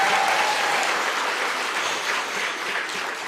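Keynote audience at a county government health forum applauding, a steady, dense wash of clapping that fills the whole stretch and tapers only slightly near the end.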